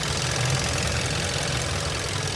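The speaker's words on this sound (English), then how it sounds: "what it sounds like when the engine is up to temperature" A Kia Optima four-cylinder engine idles at full operating temperature, a steady low hum with faint ticking, close and continuous with no talk.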